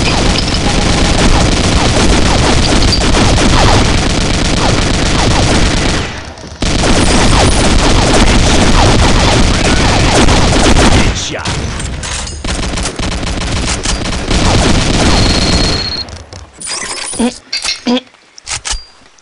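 Loud, dense gunfire rattles almost without pause in a cabin-fever style game, with rapid bursts and a brief gap, then scattered shots and clinks trailing off near the end; a voice is faintly mixed in.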